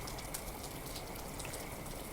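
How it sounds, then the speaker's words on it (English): Rain falls in the Ebon Light video game as a steady, even hiss of drops spattering on surfaces, faint and constant throughout, with no voices. "And it's raining."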